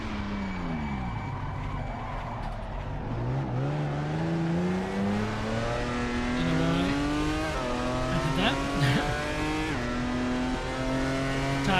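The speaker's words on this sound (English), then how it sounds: "tyres were squealing, so I thought I was at the limit of the grip they could provide" Race cars in the Assetto Corsa sim at the Norisring street circuit, vintage class, with engines revving and shifting through gears and tyres squealing loudly under braking and cornering, continuous and close.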